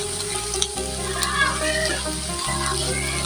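Spring onion stalks are stirred and fried in a pan, giving a steady, close sizzle with a low background hum and a few soft stirring knocks, with no talking.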